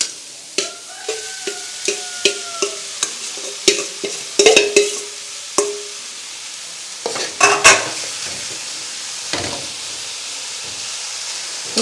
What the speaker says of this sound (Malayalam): നമ്മൾ അരിഞ്ഞു വെച്ചിരുന്ന തഴുതാമയുടെ ഇല ഇങ്ങോട്ടിട്ട് കൊടുക്കുക